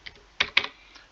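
A few keys are tapped on a computer keyboard while a code is entered, several sharp close clicks, two of them louder, spaced irregularly in quiet.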